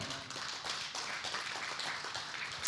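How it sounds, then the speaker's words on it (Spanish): Congregation applause in a church during a sermon, steady dense clapping at even loudness throughout, moderately close, with no clear talk over it. "Dale un aplauso al Señor."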